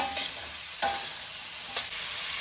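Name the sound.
pumpkin and carrot being stirred and fried in a pan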